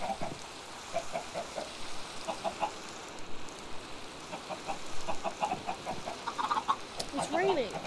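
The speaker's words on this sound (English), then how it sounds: "Come on, chickens, all get inside." Chickens cluck in short, scattered bursts in Minecraft Java Edition, soft and close against a steady backdrop of loud rain.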